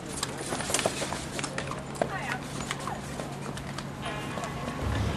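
Horse hooves clip-clop on pavement in an uneven rhythm in Leavenworth during a quilt show, with people talking nearby and the rumble of street noise.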